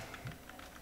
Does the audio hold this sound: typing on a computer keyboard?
yes